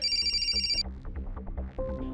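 A mobile phone in a crime drama rings with a bright electronic ringtone for under a second, then cuts off, leaving a low throbbing background before a brief tone returns.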